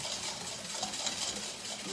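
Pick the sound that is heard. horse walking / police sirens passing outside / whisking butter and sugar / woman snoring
whisking butter and sugar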